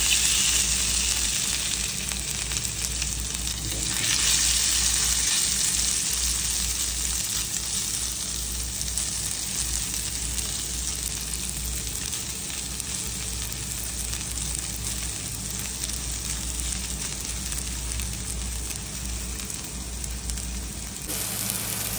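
An egg omelette with cornflour fries in olive oil, giving a constant crackling sizzle close by that continues steadily for the whole stretch with no voices over it.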